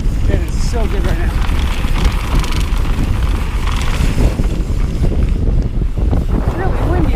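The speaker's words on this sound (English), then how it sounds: "It's really windy right here." Strong wind roars and buffets the microphone continuously on a mountain bike trail at 18 Road in Fruita, Colorado, a loud steady rush with no clear gaps.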